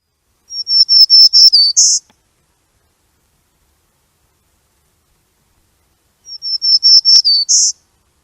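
Black-throated green warbler song: two separate phrases of thin, buzzy, high-pitched notes ending in a slightly lower, drawn-out buzz, clear and close against silence, with a long quiet gap between them.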